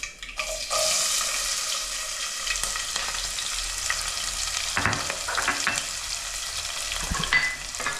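Onion pieces fry in hot oil in a pan with a loud, continuous close sizzle, joined by occasional stirring clatters and scrapes.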